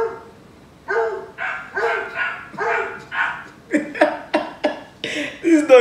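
A two-legged dog barks repeatedly at close range: a run of loud, evenly spaced barks that turn shorter, quicker and yippier toward the end.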